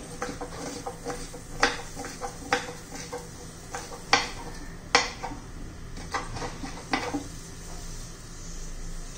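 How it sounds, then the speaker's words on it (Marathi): A knife chops coriander finely on a board, the blade knocking in quick irregular taps with a few sharper strikes, close and moderately loud, with no voices. "कोथिंबीर चिरून घेऊया. ती पण बारीक चिरायची आहे."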